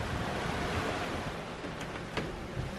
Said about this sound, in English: our port side just got swamped by that wave